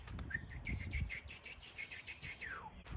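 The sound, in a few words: person imitating a bird call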